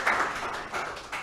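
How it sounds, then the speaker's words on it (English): An audience at an entrepreneurship and mental health talk claps, a brief, faint patter of applause from a small crowd that swells and fades in a couple of waves. "Give yourselves a round of applause. Give Andy a round of applause."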